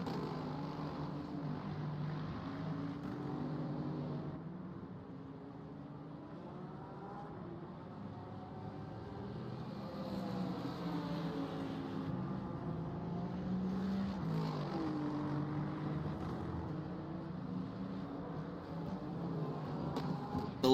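Racing car engines from a sim racing game at Bahrain, with a front-engined Lexus and BMW battling, drone steadily with shifting revs and gear changes, mid-distance and continuous throughout.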